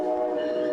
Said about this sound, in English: The Amtrak train to Chicago stops here 3 times a day.